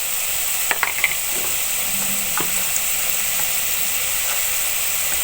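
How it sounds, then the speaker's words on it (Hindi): Garlic paste frying with browned onions in a pan for an aloo matar curry, a dense steady hiss with a few faint stirring clinks early on, close and fairly loud. "2 टीस्पून लहसुन का पेस्ट शामिल करेंगे और लहसुन को थोड़ी देर में भून लूँगी।"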